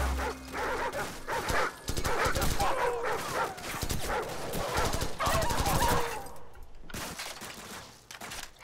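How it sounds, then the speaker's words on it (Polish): Dogs bark repeatedly in the Call of Duty 4 Modern Warfare game, a rapid run of loud barks and yips over several seconds with sharp clatter mixed in, then fading toward the end, with a voice talking underneath. "Cholerne psy"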